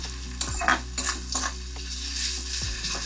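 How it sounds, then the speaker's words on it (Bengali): Chopped onion hits hot oil seasoned with black cumin and dried chilli, sizzling steadily while a utensil stirs and scrapes the pan in a few distinct strokes. "এবার কুচনো পেঁয়াজ দিয়ে বাদামি করে ভাজো"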